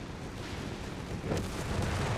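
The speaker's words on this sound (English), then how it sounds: "It's just a strafe." An aircraft strafing run during a 4v4 battle on the Mignano Gap map in the video game Company of Heroes 3: a steady wash of dense gunfire and blasts, swelling into a heavier burst partway through, with no talk.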